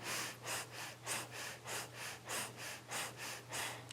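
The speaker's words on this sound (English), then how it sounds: "go back to breath of fire. Pumping the navel, equal inhale, exhale" Breath of fire in a Kundalini yoga practice: rapid, even, rhythmic pumping breaths through the nose, about two per second, close and soft, with steady equal inhales and exhales and no talking.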